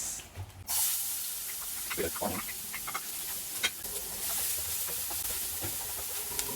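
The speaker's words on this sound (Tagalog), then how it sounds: "pwede natin gisahin ang sibuyas" Onions sautéing in a pan give a steady, moderately loud hiss broken by occasional scraping stirs and crackles.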